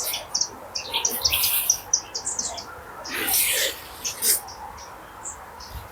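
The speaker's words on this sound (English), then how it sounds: "Lots of species of bird up here as well." Birds chirp and sing in scattered bursts of bright, high tweets, several calls overlapping at moderate distance against a quiet outdoor background.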